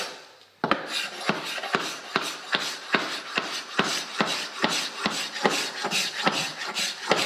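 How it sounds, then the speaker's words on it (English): Rhythmic rasping strokes of a hand scraper working the corners of a wooden floor, about a dozen sharp, evenly spaced scrapes, close and fairly loud, with no voices. "Scraping the corners."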